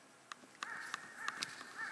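Two or three birds call outdoors in a quiet rural spot, faint short cawing notes and a thin sustained whistle-like tone, soft and at a distance.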